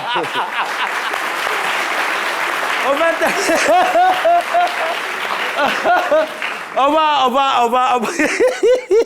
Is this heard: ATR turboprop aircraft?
no